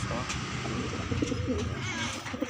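Pigeons coo in low, repeated soft calls close by, with a male and a female bird together, over steady background noise and no talk.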